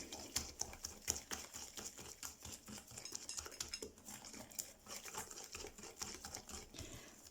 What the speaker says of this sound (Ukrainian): Ретельно збиваємо, щоб всі кристалики цукру майже розтворилися.